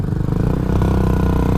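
A Bajaj Discover motorcycle with a modified silencer runs close by, its engine giving a loud, steady, rough thrumming with a fast, even exhaust pulse throughout.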